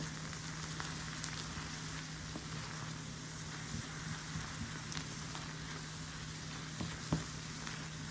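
Food browning in a pan while black beans cook with it, a steady soft sizzle and hiss holding throughout, with a low constant hum underneath and a few faint clicks of stirring.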